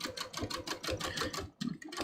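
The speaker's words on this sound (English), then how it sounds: "I'm just going to sew straight through here," Sewing machine stitching straight through a waistband seam to flatten it, a rapid, steady mechanical chatter of needle strokes running close and loud, then a brief pause and a short restart.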